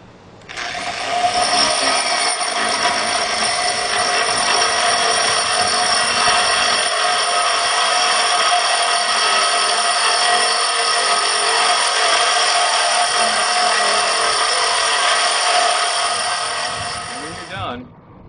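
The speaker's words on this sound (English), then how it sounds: "and then I'll go ahead and drill my hole." A drill with a core bit boring a hole into a granite countertop, one loud sustained grinding whine that starts abruptly, holds steady for about sixteen seconds, then winds down.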